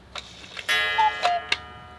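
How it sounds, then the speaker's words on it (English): A mechanical cuckoo clock's pendulum ticking steadily with a few sharp ticks, over a faint background hum and brief tonal chimes. "Start the pendulum, listen to the tick-tock, and we're ready to go"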